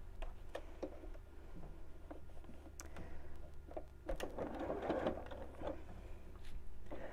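A sewing machine stitches fleece fabric for a festive penguin, producing quiet, close mechanical ticking and clicking with a slightly busier run of stitching toward the middle and end.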